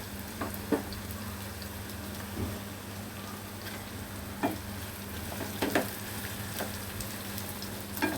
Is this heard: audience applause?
no